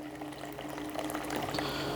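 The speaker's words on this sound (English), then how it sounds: "We're going to give it some water." Water poured onto a tray of sunflower microgreens, a soft steady trickling and splashing stream, faint and close, with no talk.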